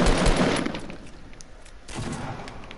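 Gunfire in the video game Fortnite: a loud, dense volley of rapid shots right at the start, fading, then a second, softer burst of fire near the end.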